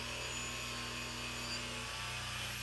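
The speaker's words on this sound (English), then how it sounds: "I'm gonna run the Dremel tool on slow speed." A Dremel rotary tool runs at slow speed, a steady close mechanical hum with a low buzzing drone that shifts pitch slightly partway through, no voices.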